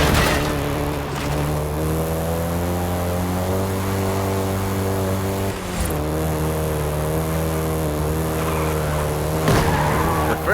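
A Volkswagen Golf GTI drives in Forza Horizon 5 with a steady, loud engine drone whose pitch climbs and holds, briefly dips around a gear change, then carries on. Music or other game sound plays beneath it, and no one speaks.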